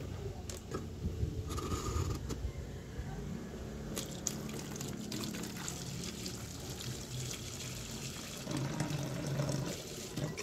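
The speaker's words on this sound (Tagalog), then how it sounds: "lalagyan natin siya ng tubig" Water trickles and splashes steadily into a plastic bottle, with faint clicks and handling noises, growing slightly fuller near the end.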